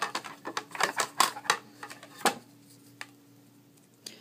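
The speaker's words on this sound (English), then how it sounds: "And then I will put this into my machine and it will be cut." A paper die-cutting machine pressing through a cut paper plate sandwich, giving a quick run of sharp clattering clicks and ratchety knocks that thin out to a few isolated taps, close and alone.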